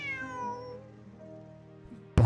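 A cat in the video game Genshin Impact gives a drawn-out meow with a falling pitch, clear and alone, and a sharp, loud sound cuts in at the very end.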